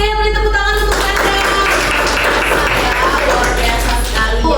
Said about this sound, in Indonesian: beri tepuk tangan untuk Anda